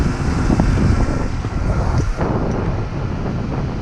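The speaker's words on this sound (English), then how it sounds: "Still very windy." Strong wind buffets a microphone mounted on a worker's helmet at an outdoor crane job site, producing a loud, continuous low roar and rumble that fills the whole stretch without speech.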